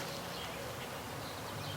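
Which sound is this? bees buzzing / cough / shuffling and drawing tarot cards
bees buzzing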